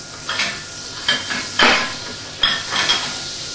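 Turkey escallopes frying in a pan at an outdoor cooking demo at Gloucester Docks, a steady crackle and sizzle broken by a few sharp clinks of metal utensils against the pan, close and clear with no talking.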